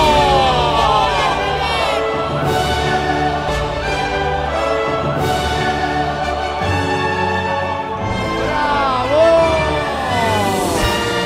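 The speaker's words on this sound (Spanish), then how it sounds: "Fuerte el aplauso para presentar a la señorita Ashelen Baleo." Loud studio audience cheering and clapping for a dancer's introduction on an Argentine TV dance show, with whoops, shouting voices and music or tones blending into a sustained roar.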